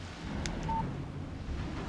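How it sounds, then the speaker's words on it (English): A short electronic chime from a phone signalling an incoming text message in the Alan Wake video game, a single brief tone heard over a steady windy, rumbling game ambience. "Text message from Barry."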